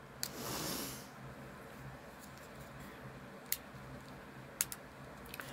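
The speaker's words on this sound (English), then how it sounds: "Okay, so I have my scissors. Let's get it open." A brief rustling crunch, then a few quiet, sharp scissor snips through plastic packaging spaced seconds apart in an otherwise hushed room.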